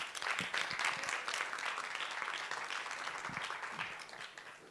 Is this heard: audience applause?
yes